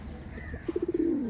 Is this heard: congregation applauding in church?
no